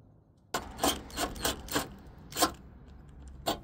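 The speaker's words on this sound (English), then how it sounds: "I'm just making the hole a little bigger so I can use the factory screw." Short, rasping bursts of grinding as a hole in a plastic bumper clip is enlarged, about six scraping strokes at an uneven pace, close and fairly quiet after a brief silence.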